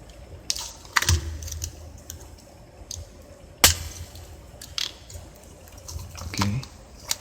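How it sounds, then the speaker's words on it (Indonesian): Keycaps are pried off a computer keyboard one at a time. Each pull gives a sharp plastic click or snap, spaced a second or two apart, against quiet room tone, and a voice speaks nearby. "Oke, kita lepas dulu tombolnya."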